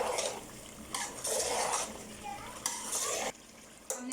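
Biryani masala being mixed with mint leaves in a pot, with intermittent scraping and stirring strokes, light sizzling and soft clinks of a spoon against the pot, fairly quiet and close.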